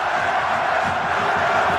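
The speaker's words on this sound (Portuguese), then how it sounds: "31 minutos, explode a torcida do Vasco." Vasco da Gama fans erupt in a loud, dense roar after a goal in a 2011 Brazilian league match against Fluminense, a steady stadium-wide crowd wall that holds throughout.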